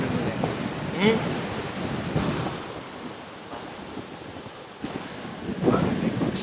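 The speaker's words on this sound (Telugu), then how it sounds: "ఒక పక్క గాలి ఒక పక్క బీచ్" Wind and surf on a beach in Goa: gusty wind rumbles against the microphone while waves wash in close by, the noise swelling and easing in uneven surges.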